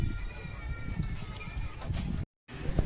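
Pigeons of local Bangladeshi breeds, taken out of their coop for sale, coo softly in close, overlapping calls amid rustling and handling noise, with a voice speaking over them.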